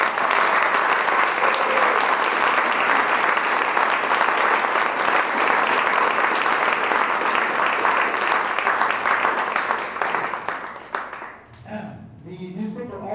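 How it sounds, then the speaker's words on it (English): Audience applause at an honors convocation, a dense sustained clapping from a large crowd for about ten seconds before tapering off into scattered claps and quiet room noise. "Please give them a round of applause as they come to the stage."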